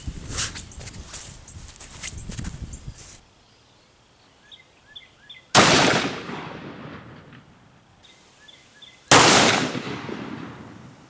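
A 500 Smith & Wesson Magnum fires a 440 grain hard cast round into ballistics gel outdoors: two loud, sharp reports with long echoing tails, after earlier shuffling and faint birdsong.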